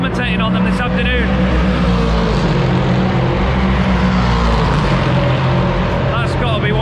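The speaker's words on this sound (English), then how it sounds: "That's got to be one of the best sounding current race cars there is." An LMP3 prototype race car at the Nürburgring circuit roars loudly past, its engine note rising and sweeping by with a dense, continuous rasp that fills the whole clip.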